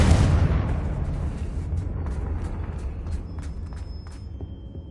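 Confringo blasting spell explosion in Hogwarts Legacy, a loud close boom that opens with a sharp burst and rolls into a long rumbling decay, with faint crackling debris toward the end.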